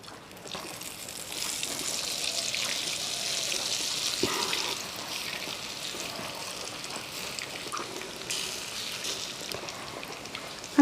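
Lote fish coated in egg batter is dropped into moderately hot oil and fries with a steady close-up sizzling hiss and light crackle that holds through the whole stretch.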